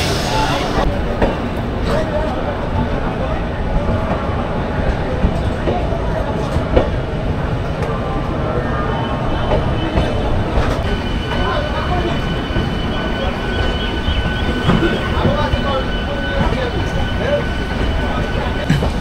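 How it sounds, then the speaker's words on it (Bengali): Aboard the Titlagarh Ispat Express (12871) as it pulls out of platform 22 at Howrah station, a loud, steady rumble of wheels and carriages carries on throughout, with faint squeals and no clear speech. "তো আমাদের ট্রেন ছেড়ে দিল হাওড়া স্টেশনের 22 নম্বর প্ল্যাটফর্ম"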